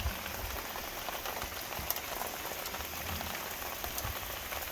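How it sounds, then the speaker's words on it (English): Steady rain falls on a farm on a late-summer afternoon, a dense continuous patter of drops hitting surfaces, with no voices over it. "Getting a little bit of rain this afternoon."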